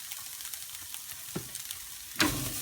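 Fresh curry leaves sizzle in a hot pan for seabass korma, a soft steady frying hiss broken by a sharp louder crackle near the end, with no talking.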